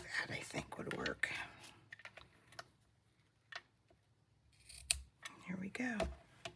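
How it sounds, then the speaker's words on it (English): Ribbon snips trim paper edges for a card, giving several short, crisp close snips in quick clusters, mixed with soft handling noises and quiet speech. "And trim the edges. Let me get my ribbon snips."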